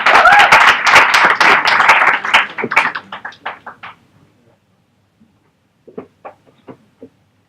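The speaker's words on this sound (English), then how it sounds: "So, we have a good round of applause for Jeremy" A small audience at an opening event gives a round of applause, dense clapping for a few seconds that thins into scattered claps and fades out, followed by a few final isolated claps.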